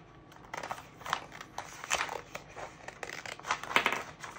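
Scissors snip and rustle through paper lettering for a floral peekaboo charcuterie board, a close, quiet run of irregular cuts and crinkles with no talk.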